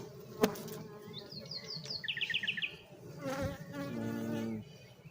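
Honeybees drone close by at a hive, with high chirpy tones and a sharp knock near the start, the hum rising and falling irregularly.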